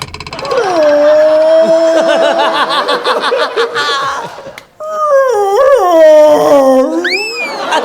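Close, loud dog howling in long drawn-out wails, breaking briefly before resuming with whimpering, crying rises and falls.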